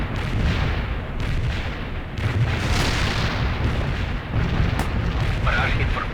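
An artillery barrage in the video game World in Conflict pounds the area: a dense, continuous roar of heavy explosions and rumbling booms, loud and close, with no break.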